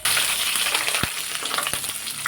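Cumin seeds hit hot oil for a tempering while cooking cowpeas, giving a loud, steady frying hiss throughout with a couple of sharp clicks from a utensil.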